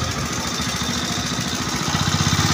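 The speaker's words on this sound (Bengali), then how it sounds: "দেখো লঞ্চ আসছে হাওড়া থেকে" A ferry launch nears the ghat on its way in from Howrah, its engine chugging loud and steady in a pulsing rhythm with no talk.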